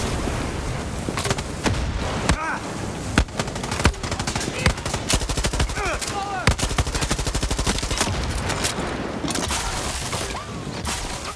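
A mounted turret machine gun fires in Far Cry 6 in long, rapid bursts of loud, close gunfire, with sharper single shots and impacts scattered through the combat.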